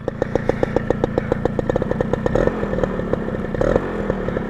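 A two-stroke motorcycle engine runs with a rapid, crackling putter, each firing pulse distinct and loud up close, briefly swelling in pitch and volume twice as the throttle is blipped.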